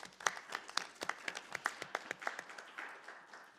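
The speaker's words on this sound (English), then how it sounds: "I think we get a round of applause." Scattered hand clapping from a small group in a city council committee room, welcoming a visiting grade 6 class. The claps come as sharp separate bursts that are fairly faint and thin out toward the end.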